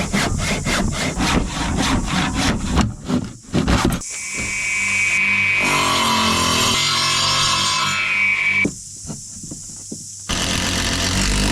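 Saw cutting up a van's interior: rapid rhythmic rasping strokes at first, then a sustained power tool whine with pitch changes, close and loud, no speech.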